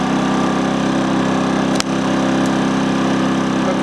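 A Hyundai P2500i inverter generator runs steadily at close range, a loud, even engine hum with a single brief click partway through.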